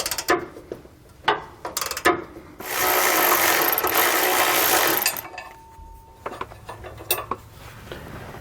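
A ratchet works 13mm bolts loose on a motorhome frame rail, with a few sharp clicking strokes, then a sustained loud ratcheting whir for a couple of seconds, followed by more scattered clicks and metal handling.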